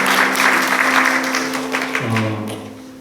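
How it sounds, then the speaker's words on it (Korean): A church congregation claps together during an Easter Sunday service, a steady burst of applause lasting a few seconds over a low sustained organ or keyboard tone. "한번 박수로 한번 하나 해주실까요?"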